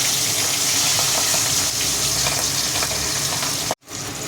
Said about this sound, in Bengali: পাবদা মাছটা হালকা করে ভেজে নেব